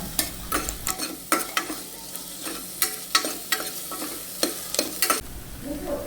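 Onions sautéed with salt and half a tomato in a pan for tapioca biriyani: a continuous sizzle punctuated by repeated sharp scrapes and taps of a stirring spoon, close up with no talk.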